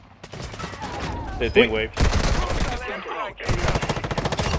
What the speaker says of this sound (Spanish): oh, nos disparan, nos disparan